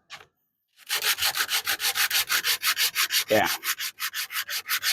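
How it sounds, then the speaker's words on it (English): Sandpaper rubbed back and forth over a wooden deck box part, a steady run of close, loud rhythmic strokes after a brief word and a short pause. "Actually, let's do it with sandpaper."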